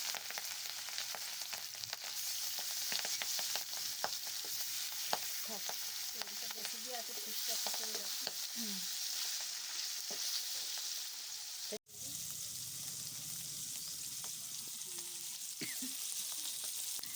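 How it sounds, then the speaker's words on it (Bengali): Boal fish sizzles steadily in hot oil, a constant crackling fry with small pops and stirring, briefly cut off near the end before resuming. "এবার মাছটা এক এক করে ভেজে নেব।"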